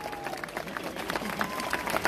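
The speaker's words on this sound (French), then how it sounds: "Comme chaque année, on peut applaudir le Père Noël." A crowd applauds Santa Claus at the official opening of a Christmas village, a spread of clapping with some sharper nearby claps, moderately loud and building slightly.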